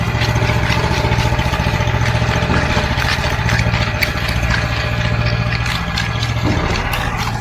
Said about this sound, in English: Machine's at an idle.